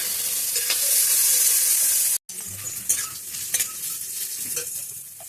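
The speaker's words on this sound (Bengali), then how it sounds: "এটা লাল লাল করে ভেজে নেব।" Steady sizzling of chopped onion, chilli and garlic frying in a pan, with occasional stirring scrapes; a brief silent gap interrupts it partway through.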